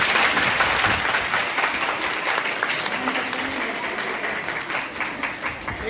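A large audience claps loudly and continuously for girl toppers of a 12th-grade mega test at a 2024 felicitation event, the applause sustained and even with faint voices mixed in.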